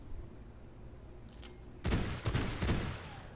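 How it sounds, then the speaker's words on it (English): Gunfire from guns in the video game V Rising: after a quiet start with one faint shot, three loud rapid bursts of shots crack out close together. "one thing about the guns, quite short range, but pretty cool, very stylish"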